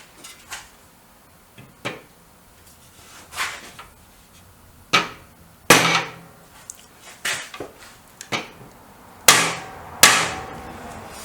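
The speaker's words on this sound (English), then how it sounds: "plastic bumpy hammer." Plastic bumpy hammer striking metal during a Greeves Anglian motorcycle restoration, a dozen or so sharp, separate knocks at irregular intervals, some harder than others, close up with no talk.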